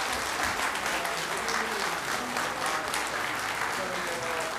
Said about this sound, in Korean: 여러분 일단 박수 부탁드리겠습니다.